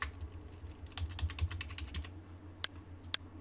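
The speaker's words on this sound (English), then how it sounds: "I'm going to use those arrow keys to move it into place" Computer keyboard arrow keys are pressed in a quick cluster of quiet clicks, followed by two sharper separate taps, faint against a low background hum.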